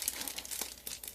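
Foil wrapping around a shipped Hoya plant crinkles and crunches up close in several quick, rustling bursts, with no talk over it.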